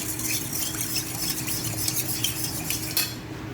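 A utensil stirs squid simmering in coconut milk in a pot, giving close scraping and clinking strokes over a soft bubbling simmer, with no talk.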